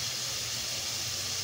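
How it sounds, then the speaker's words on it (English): Onions fry in a pan as a hamburger steak cooks, giving a steady, even sizzling hiss with no other sounds. "Add that onion. And then you hear it frying."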